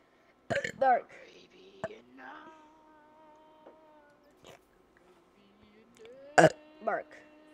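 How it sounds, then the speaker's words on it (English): A person burping during a gaming session, with a couple of short, throaty belches and some murmured, whispery vocal sounds scattered between them. Close to the microphone, against near silence. "You're just burping."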